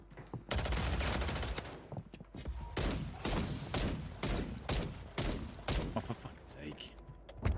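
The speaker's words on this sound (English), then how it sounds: "I couldn't see what I was shooting at because this gun has a lot of muzzle flash" Repeated gunfire from a weapon in the Warzone video game, with rapid bursts and single cracks crowding the clip, close and punchy, broken by short gaps.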